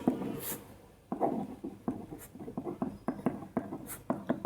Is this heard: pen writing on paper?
yes